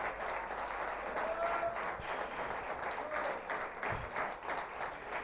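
A church congregation claps at a Spanish-language service, fairly faint but continuous applause with slight swells, no voices over it.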